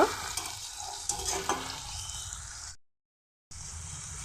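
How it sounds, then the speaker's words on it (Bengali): Tomatoes sizzle steadily while frying in a pan, stirred with a few scraping clinks, before a sudden brief silence and the sizzle returning. "এখন একটু মজিয়ে নেব টমেটোটা"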